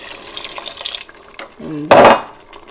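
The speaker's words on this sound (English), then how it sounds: "So I'm going to add 1 cup of water" A cup of water is poured into a pan of beef mince sauce, a short splashing burst near the end after brief kitchen sounds and a voice.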